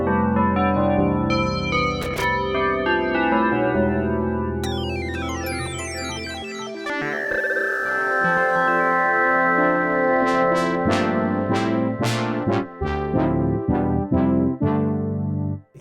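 Preset patches on a KORG opsix FM synthesizer play one after another: sustained chords, a sweeping bell-like passage, then bright plucked notes in a quick rhythmic run, loud and clear with no voice.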